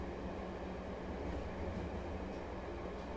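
A train runs steadily inside the video game Let It Die, a continuous rumbling rail sound with faint clatter, heard alone at moderate level with no talk.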